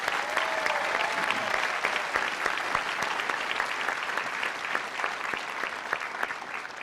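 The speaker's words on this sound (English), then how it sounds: "I think that deserves a round of applause." A crowd applauds new citizens at a United States naturalization ceremony, with sustained, even clapping from many hands filling the room at moderate volume.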